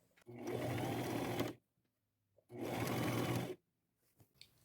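A sewing machine runs two steady bursts of stitching along a half-inch seam in thrifted fabric, each lasting over a second, with a quiet pause between, close and clear.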